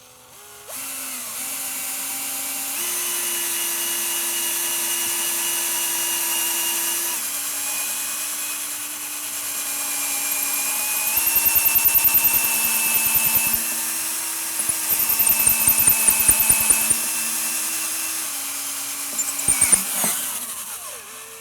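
A power drill bores steadily into a wooden frame of a studio reformer during assembly, a close, sustained whine holding even pitch with a few brief shifts in speed and grinding bursts as the bit bites through the wood.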